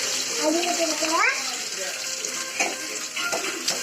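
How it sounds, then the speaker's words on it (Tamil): Chopped onions hit hot oil with garlic and green chillies for a Tamil dry fish thokku, giving a steady close sizzle throughout while a voice speaks over the frying. "அப்புறம் 2 மீடியம் சைஸ் வெங்காயம் கட் பண்ணி வச்சுருக்கேன், அதையும் போட்டுக்கிறேன்."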